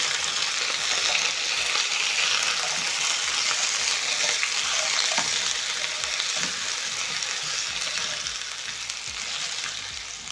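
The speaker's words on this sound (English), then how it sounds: "I'm going to flip my potatoes" Potatoes pan-frying in hot oil after being flipped, a loud, dense, continuous sizzle that holds steady from start to finish.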